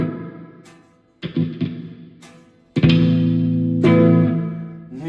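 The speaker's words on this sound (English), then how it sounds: "Bit of reverb. Sounds like some spring reverb actually." Several strummed electric guitar chords through a Behringer V-Tone ring out with a splashy, springy reverb tail after each strike, loud and close, with no voices.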